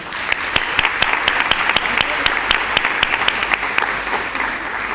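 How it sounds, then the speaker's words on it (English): Audience at a 2012 awards evening applauds the event committee members: steady, dense clapping with sharp individual claps standing out, sustained throughout at an even, fairly loud level. "please, a round of applause to thank them for their hard work"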